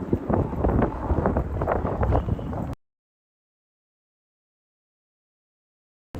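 Gusty wind buffets a microphone on a chilly Upper West Side street in New York City, a loud, steady rumble for under three seconds before the sound cuts to silence.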